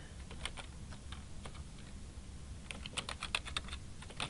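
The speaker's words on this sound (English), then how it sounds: "they would be instructed to type in their name" Someone types a name on a computer keyboard, a quick run of light key clicks, close and moderately quiet, with no talking.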